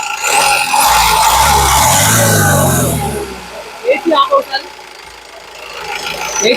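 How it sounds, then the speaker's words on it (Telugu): A 2014/15 Honda Mobilio VX engine idles with a quiet, steady low rumble under a person talking, then continues alone as the voice stops, with a few brief clicks. "ఇంజిన్ యొక్క నాయిస్ కూడా చాలా సైలెంట్ గా అయితే ఉందండి"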